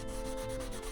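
A metal draw gauge being scrubbed with a Scotch-Brite pad and WD-40, a steady close abrasive rubbing that continues without pause.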